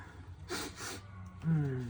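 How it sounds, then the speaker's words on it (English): Two quick nasal sniffs close to the microphone, followed by a short voiced sound. "Sorry for the sniffles."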